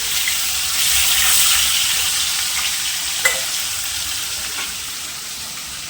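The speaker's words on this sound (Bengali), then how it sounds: "এবার আমি এক এক করে সব মাছগুলো ভেজে নেবো।" Katla fish pieces, including the head, fry in a little oil in a pan, making a steady, close sizzle that swells slightly and then eases, with a small clatter partway through and no voices.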